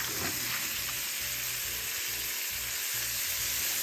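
Minced beef and lamb sizzle steadily in a pan with onions, a dense continuous frying hiss with faint scraping stirs throughout, close and loud.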